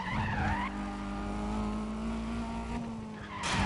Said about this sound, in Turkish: Bu oyunda el freni çektiğimiz an araba direkt spin atıyor